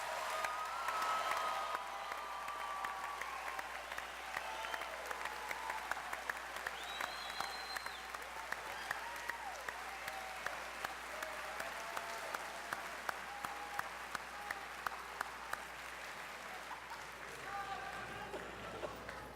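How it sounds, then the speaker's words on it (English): Sustained applause from a large crowd at a university commencement ceremony fills a big hall, with scattered cheers and whistles rising through the steady clapping. "one more round of applause and recognition for today's graduates"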